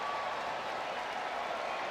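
The Timbers Army stadium crowd cheers at Providence Park during a Portland Timbers soccer match, a continuous distant roar of voices and clapping holding steady throughout.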